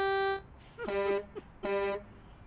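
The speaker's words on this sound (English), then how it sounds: "I just love the train horn on this thing." A multi-chime train horn fitted to a semi truck in American Truck Simulator blares in a long steady chord, then sounds two more short blasts after a brief gap, loud and close with no talking.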